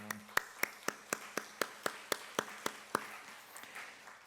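A small church congregation claps together in a steady, regular rhythm at a Sunday worship service, about a dozen even beats that then fade, moderately quiet in the room.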